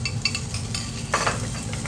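Chopped onions and peppers fry in oil for a restaurant-style bhuna prawn puree, giving a close, steady sizzle with a couple of quick stirring scrapes.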